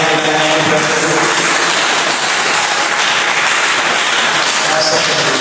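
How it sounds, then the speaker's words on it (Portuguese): A church congregation claps together in a dense, continuous roar of applause, loud and steady throughout, with faint voices mixed in underneath. "Quem pode dar uma salva de palmas para Jesus?"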